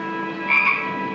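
Frogs croak at a pond full of life, a sustained chorus with one louder croak standing out over the steady background din, fairly close, no voices.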